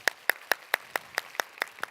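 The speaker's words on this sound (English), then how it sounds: "Everybody clap your hands." At a conference session, an audience claps hands together in a steady unison rhythm, nine crisp synchronized claps at an even pace, close and clear with nothing else over them.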